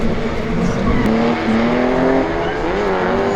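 Cars drifting around a busy track at a car meet, a steady loud engine roar with rising and falling revs and a continuous tire squeal, no talk over it.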